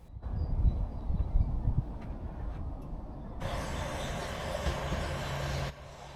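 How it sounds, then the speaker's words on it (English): Merseyrail Class 777 four-carriage train arriving at Moreton station on the Wirral, low rumbling wheels and motor noise rising, then a bright hiss of brakes or doors in the second half before dropping off abruptly. "777 train is arriving with the 4 carriages"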